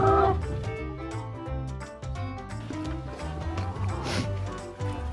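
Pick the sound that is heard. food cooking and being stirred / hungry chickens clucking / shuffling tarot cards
hungry chickens clucking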